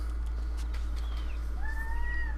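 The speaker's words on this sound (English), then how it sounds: "you might hear my cat" A cat gives a faint, drawn-out meow or two over a steady low electrical hum.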